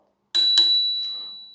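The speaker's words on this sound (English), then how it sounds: "Little bell." Two quick strikes of a small bicycle-style bell on a powered device, each ringing out with a bright sustained tone that slowly decays, heard alone and close.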